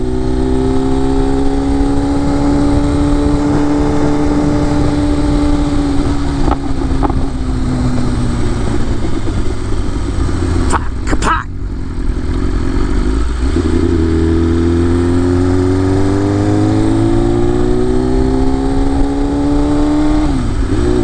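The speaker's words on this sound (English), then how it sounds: "That's why I have a loud exhaust." A loud, steady engine drone runs throughout, with rising and falling revs, like a motorcycle with a loud exhaust riding close by.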